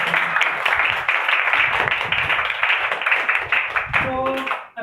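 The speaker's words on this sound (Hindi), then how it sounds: "एंजॉय किया जरा जोरदार तालियां बजाएं।" Children in an online Sunday school class clap loudly, a steady patter of applause running almost the whole time, ending with a short burst of tones and a sudden cutoff.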